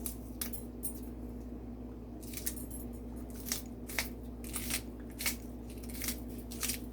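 Green onions are cut fresh in a kitchen, giving a series of crisp, regularly spaced snips or chops over a low steady hum, close and fairly quiet.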